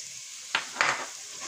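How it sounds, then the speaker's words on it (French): Spices and ginger toasting in a hot pan give a quiet steady sizzle, broken by two short bursts of louder crackling as they are stirred. "On laisse les épices quelques secondes se torréfier, pas trop parce qu'après ils brûlent"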